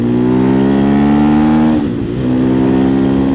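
A 2024 KTM EXC-F 500 TPI dirt bike with an FMF muffler revs hard on takeoff, its loud engine climbing steadily in pitch, dipping briefly mid-pull, then pulling strongly again close by.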